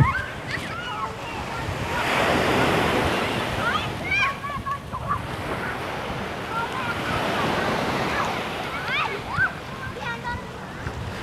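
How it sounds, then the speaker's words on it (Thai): Evening sea waves wash and break on a busy beach as a rolling, rising and falling surf roar, with wind buffeting the microphone and children's shouts and voices faintly in the background. "ทะเลสวยมากเลยอ่ะพี่พลอยถ่ายทะเลให้ดูกันแล้วกันเนาะ"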